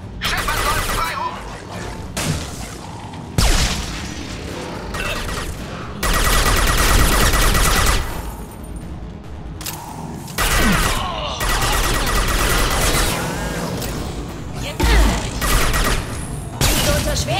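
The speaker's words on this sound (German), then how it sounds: "Jetzt unter schwerem Beschuss." Heavy gunfire in the video game Mass Effect 2, with dense bursts of shots and booms alternating with quieter gaps, loud and close throughout, with a player talking in places.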